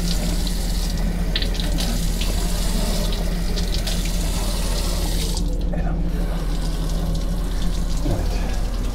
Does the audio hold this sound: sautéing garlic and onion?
no